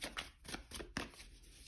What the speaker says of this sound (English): I always let the cards choose themselves when I'm shuffling